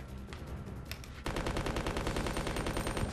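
Dual Uzis firing in Resident Evil Code Veronica X, a rapid, dense stream of game gunfire that jumps louder partway through and keeps chattering steadily, with no talk.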